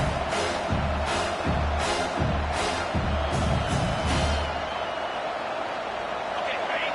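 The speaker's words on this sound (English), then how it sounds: "Here comes this home crowd as the defense tries to get off the field on 3rd down." Home crowd cheering and roaring in a college football stadium as the defense tries to get off the field on third down, a steady loud swell with repeated surges under a commentator's talk.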